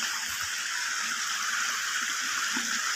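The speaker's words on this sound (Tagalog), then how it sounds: "Medyo malakas-lakas naman yung daloy ng tubig" Irrigation water rushing fairly strongly through a channel on farmland, a steady broad hiss holding at an even, close level for the whole stretch with no voices.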